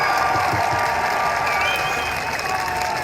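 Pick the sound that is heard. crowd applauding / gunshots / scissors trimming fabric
crowd applauding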